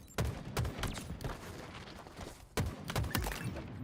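Rapid bursts of gunfire from a Halo multiplayer scrim, dense volleys of shots with short breaks, loud and close, with a second burst starting after a brief pause.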